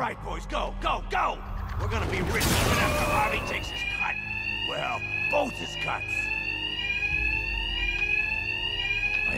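Bank alarm in Batman: Arkham Knight rings with a continuous, piercing tone, joined by a burst of loud crashing and gunfire-like impacts. Voices talk throughout over the steady alarm.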